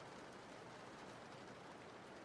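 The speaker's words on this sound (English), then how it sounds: "I hope the rain sounds are also really cozy." Steady rain falling, a soft, even hiss of drops on a surface, faint and unbroken throughout with no talk.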